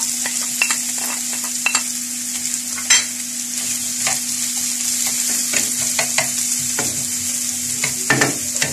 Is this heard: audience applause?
no